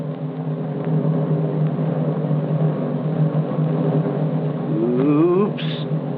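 A 1956 Chevrolet stunt car balanced on two wheels, its engine droning steadily with a low hum, then revving and rising in pitch near the end before a brief squeal.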